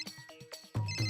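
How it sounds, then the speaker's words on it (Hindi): A phone ringtone chirps electronically in short repeated bursts, fairly quiet, after a few soft tonal blips. "अरे जेठालाल फोन उठा लो भाई"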